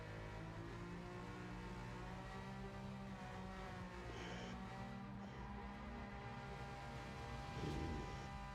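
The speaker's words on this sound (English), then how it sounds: "Anton is just melting the tyres off of that Supra" A Toyota Supra drifts at Fuji Speedway during a street-car drift battle, its engine holding a sustained, droning howl while the tyres squeal. The sound stays distant and faint, with brief swells of screeching rubber.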